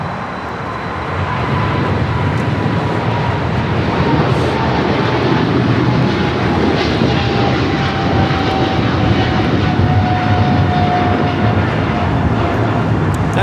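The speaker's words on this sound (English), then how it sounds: "That is American Airlines 136 Papa taking off to London Heathrow on the 777-300ER." An American Airlines Boeing 777-300ER takes off at LAX, bound for London Heathrow, with a loud, steady jet roar that holds for the whole stretch and a faint whining tone running through it.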